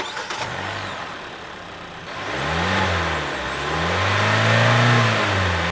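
A car engine running after new spark plugs were fitted idles steadily, then revs up and down in smooth swells, fairly close and with no talk.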